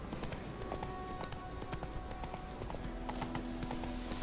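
Hooves of the horse Roach clip-clopping in The Witcher 3, a brisk, regular stream of hoofbeats on hard ground, close and continuous over a low outdoor ambience.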